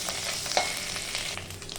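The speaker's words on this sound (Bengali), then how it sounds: "ভাজা ভাজা হয়ে গেছে মশলাটা।" Cumin seeds, dry red chilli and grated ginger spluttering in hot oil as a tempering, a steady close crackling sizzle with a brief louder pop partway through, no voices.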